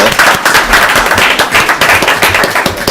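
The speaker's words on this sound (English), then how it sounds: "Let's everybody just give her another round of applause." Audience at a school board meeting clapping in a dense, loud burst of applause that fills the whole short stretch, with no one speaking over it.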